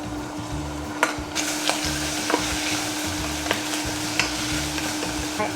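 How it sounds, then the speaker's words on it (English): Bacon and onion stir-fried in canola oil in a pot, a steady close sizzle with regular scraping strokes of a utensil against the pan, no talking. "We put everything in a pot and stir fry until it gets brown color."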